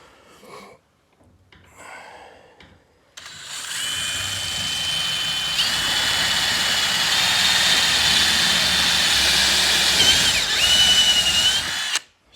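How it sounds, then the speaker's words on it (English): A tapered drill bit bores through wood on a chicken coop build, a loud, steady high-pitched whine running about eight seconds after brief handling noises, with a short dip in pitch near the end before it stops. "I wanted to show you real quick how this drill bit works"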